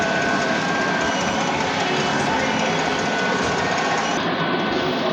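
An inkjet printer runs a print head cleaning cycle, giving a loud, steady mechanical whirr and rattle throughout, with the high end cutting off near the end.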